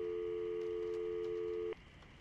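Cell phone in the game Syberia dialing a call: a steady electronic tone holds for nearly two seconds, then cuts off abruptly, leaving quiet line hiss.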